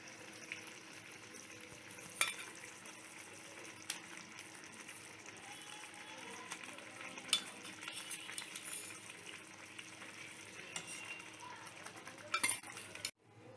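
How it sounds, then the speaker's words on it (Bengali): Stuffed fried pointed gourds (potol dolma) sauté gently in a pan with a soft, steady sizzle, occasional light stirring and a few faint utensil clinks, fairly quiet with no talking. "পুর ভরা ভাজা পটলগুলো এরপর আস্তে আস্তে কষিয়ে দিচ্ছি।"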